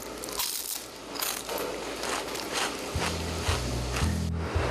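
Loud, close crunching of crisp fried laver (seaweed) chips, repeated bites and chewing in a steady crackly rhythm with no talking.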